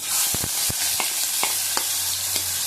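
Onions sizzle in hot oil with panch phoron and bay leaf for a taro (gatu kochu) dish. A steady frying hiss is broken by several sharp stirring scrapes and clicks close by.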